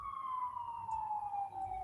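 An emergency vehicle siren wails with a steady falling pitch, fairly faint and distant, with no other sounds over it.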